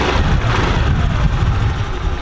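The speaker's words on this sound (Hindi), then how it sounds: "तो ये अपना स्कूटर स्टार्ट हो गया।" A scooter engine idles right after starting, a loud, steady close-up putter that continues unchanged with no voices over it.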